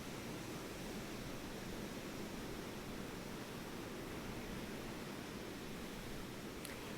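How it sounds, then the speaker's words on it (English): Ocean waves make a soft, continuous wash of surf, even and unbroken, faint and far off with nothing else over it. "listen to the sounds of the waves in the background"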